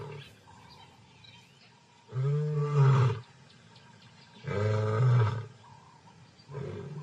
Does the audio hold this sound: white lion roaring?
yes